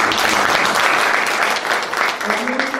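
An audience at a local community debate on district development breaks into loud, dense applause that holds steady, then thins and tapers toward the end.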